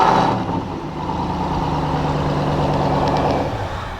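A 2023 Ram TRX Havoc Edition pickup fires up by remote start, its engine holding a loud, deep, steady rumble close by from the first moment to the end.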